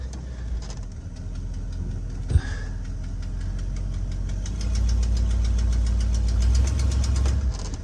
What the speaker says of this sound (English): I'm gonna back her out nice and easy.